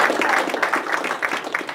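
Short burst of steady applause from a small group at a school district accreditation meeting, moderately close and continuous for the whole stretch.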